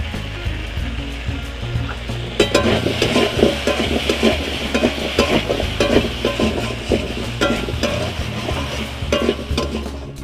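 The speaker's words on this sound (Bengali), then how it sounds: "এখন আমি পরিমাণ মতো লবণ দিয়ে দিচ্ছি আর তার সাথে একটু হলুদ গুঁড়া দিয়ে দিচ্ছি" Meat with potato, salt and turmeric powder stir-fried in a pan: a steady close sizzle with a low hum, and a spoon scraping and clattering rapidly against the metal through the second half.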